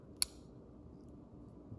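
A single crisp scissors snip through a soft plastic frog fishing lure, one sharp close cut near the start, then only quiet room tone.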